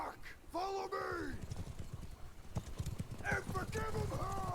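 Rapid, steady hoofbeats of a horse galloping in Mount and Blade 2 Bannerlord, continuous through the clip, with a voice talking over the start and again near the end.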